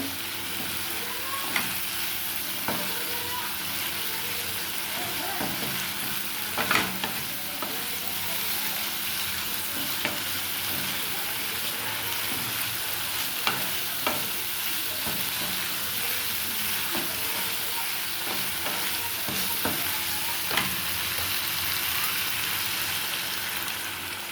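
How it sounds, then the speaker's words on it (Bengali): Spice masala with black mustard paste being sautéed in a pan for egg fry curry, a steady soft sizzle with occasional stirring clicks and scrapes throughout. "মশলা কষা হয়ে গেছে"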